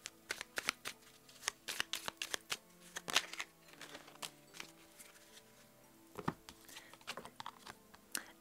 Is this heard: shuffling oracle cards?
yes